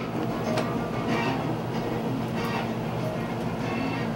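A subway train rumbles through a station with steady, continuous track noise and faint rhythmic clatter, fairly close, while people talk quietly underneath.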